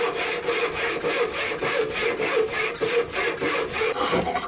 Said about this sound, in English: Should really have sharpened my smoothing spoke shave here.